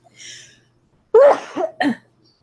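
A quick breathy inhale, then a single sharp, explosive sneeze close by, trailing off into a short second burst.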